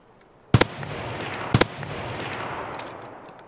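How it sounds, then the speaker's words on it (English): Two sharp gunshots in Escape from Tarkov, about a second apart, each a loud close double crack, over steady low ambient game noise. "Two quick shots and the dude was dead."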